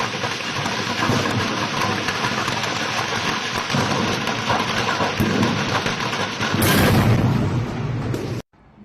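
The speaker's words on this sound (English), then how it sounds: "This is a scene of a fireworks store exploding" A fireworks store explodes in a dense, continuous barrage of crackling bursts and booms, loud and chaotic throughout, swelling into a bigger blast near the end before cutting off abruptly.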